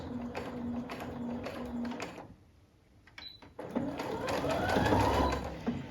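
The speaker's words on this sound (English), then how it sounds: "And let's start sewing." A Brother A16 sewing machine stitches through twelve layers of denim with a steady, close mechanical whir, pauses briefly, then starts again at a louder, busier pace.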